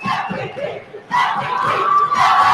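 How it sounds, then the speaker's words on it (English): Crowd at a boys' high school basketball championship game cheers loudly and continuously, the roar swelling sharply midway and staying strong to the end. "And here comes JFK, Islander Nation cheering on their MVP."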